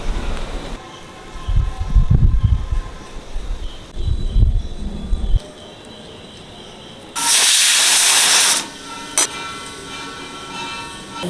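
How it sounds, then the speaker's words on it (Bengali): Chana dal boiling in a pot on the stove vents steam in a loud, steady hiss lasting about a second and a half, then one short burst, after earlier low rumbling bubbling and clatter. "ছোলার ডালটা সিদ্ধ বসিয়ে দিলাম"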